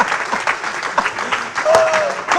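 A church congregation claps and cheers during a sermon, a continuous ragged wash of applause with shouts rising near the end, a voice briefly audible in the mix.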